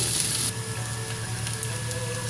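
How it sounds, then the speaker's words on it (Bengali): Ginger and green chili paste fries in a pan for a vegetarian raw-chickpea ghugni, giving a steady close sizzle with a faint low hum underneath and no voices. "বাটা মশলাটা দিয়ে কিছুক্ষণ কষিয়ে নিচ্ছি"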